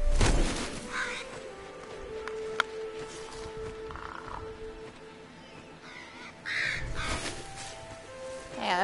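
A bird cawing in the video game Moss, several harsh croaking calls spread across the clip over low ambient game sound, with a few other soft effects between them.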